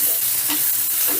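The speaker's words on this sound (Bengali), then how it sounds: "এই 1 থেকে 2 মিনিটের মতন একটু নাড়াচাড়া করে ভাজা ভাজা করে নেব" Capsicum, tomato, ginger and slit green chillies stir-frying in a kadai for a chicken dish, giving a steady close sizzle with soft scraping stirs throughout and no voices.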